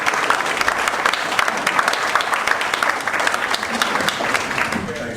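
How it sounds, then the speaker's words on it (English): A room of meetup attendees gives a speaker a full round of applause, dense continuous clapping that stays loud and even for several seconds with faint voices mixed underneath. "so let's give Charlie a big round of applause"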